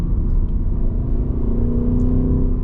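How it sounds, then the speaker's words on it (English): A 2026 Ford Mustang GT's V8 idles with the exhaust set to quiet mode, giving a steady, close, deep rumble with a smooth low drone and no pops or revs. "You just hear the engine, no exhaust."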